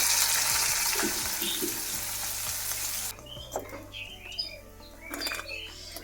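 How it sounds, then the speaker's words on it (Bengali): Fish fry in a pan over a wood-fired earthen stove, with a loud, steady sizzle that suddenly drops away, leaving quieter crackles and a few bird chirps outdoors. "এবার মাছগুলো ভাজতে বসিয়ে দিই"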